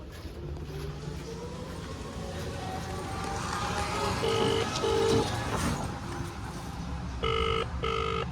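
A few short bursts of phone keypad dialing beeps, two clusters of tones, heard over a steady rumble of road and engine noise.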